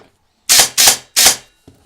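An Ares Amoeba M4 airsoft AEG with a freshly adjusted gearbox cycles in three quick, loud bursts, with a faint fourth blip trailing at the end.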